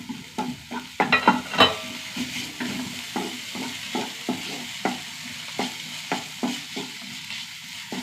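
Onion sizzles and crackles as it is stir-fried in a pan with green chili, ginger paste and garlic paste, with steady scraping stirs and short frying bursts close up and no talking.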